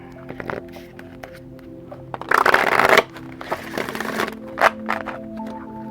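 Tarot cards being handled and shuffled at close range, a series of crisp riffles and flicks with a dense burst in the middle and scattered taps after.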